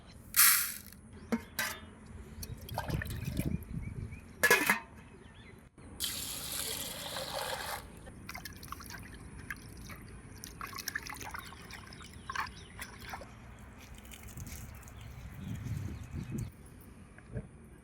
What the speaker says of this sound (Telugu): కందిపప్పు కడుక్కుందాం.